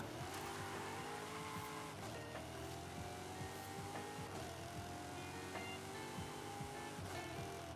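Car driving in Forza Horizon 5, a continuous loud engine drone with rising and falling revs and repeated tire squeal as it slides and skids, heavy and unbroken throughout.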